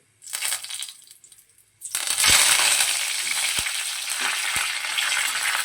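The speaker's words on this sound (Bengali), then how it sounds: "কারি পাতা এবং সর্ষেটা তেলের মধ্যে ভালো করে একটু ভেজে নেব।" Mustard seeds and curry leaves frying in hot oil: a short crackle, a brief pause, then a loud, steady sizzle with a few sharp pops and spatters near the pan.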